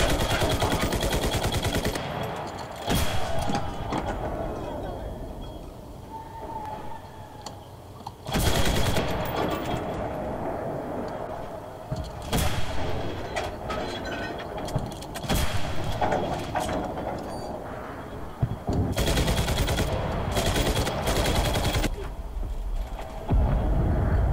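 Enemy gunfire during a tank battle in the war game Enlisted: repeated sharp shots and rapid machine-gun bursts, loud and close, spaced irregularly over steady engine rumble.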